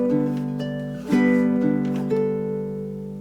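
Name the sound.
baritone ukulele playing bars 11 and 12 of Hawaiian waltz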